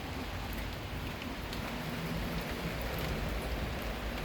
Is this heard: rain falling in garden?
yes